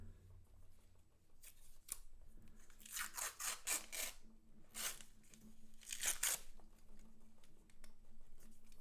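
Paper wrapper on a roll of half dollar coins being torn open close up, several crisp rips and crinkles in bursts with quiet pauses between.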